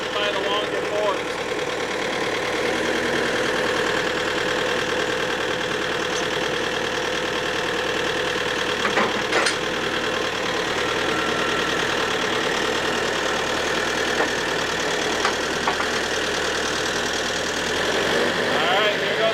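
A big tractor's engine idles steadily throughout with a continuous mid-pitched rumble and some knocking, close by, while someone talks over it at times.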